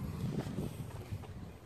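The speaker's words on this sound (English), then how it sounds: "Gotta be careful, it's windy too today." Wind blows outdoors on a breezy day beside a scooter, a steady low rumbling buffet across the microphone with brief gusty swells and no voices.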